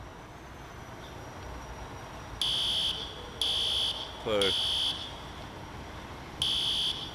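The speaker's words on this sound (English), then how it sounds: "they did really good on the fire alarms. They sound really realistic" Building fire alarms in an emergency-response game sound in loud, piercing, high-pitched pulses about a second long, repeating with short gaps over a low background rumble, while a voice speaks briefly.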